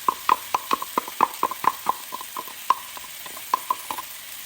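Lamb stir fry with tomato in a pan is stirred in a quick run of about fifteen sharp scraping taps, close and fairly loud over a faint sizzle.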